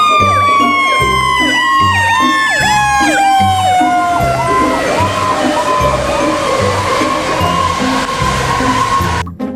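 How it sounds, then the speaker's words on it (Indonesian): A toy fire engine sounds a loud, close electronic siren that repeats in quick wailing sweeps over a looping beat, running nearly ten seconds before cutting off abruptly. "Di sini ada mobil pemadam kebakaran."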